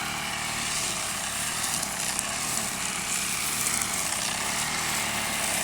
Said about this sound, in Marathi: आज पण कटरचं काम चालू आहे, ग्रास कटिंग चालू आहे.